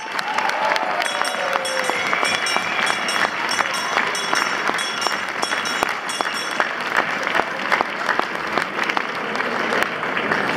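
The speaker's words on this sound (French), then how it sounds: "C'est à souligner et applaudir très chaleureusement." A crowd at a Malmedy carnival gathering applauds warmly, with dense, sustained clapping that stays loud and even throughout, and faint voices mixed in underneath.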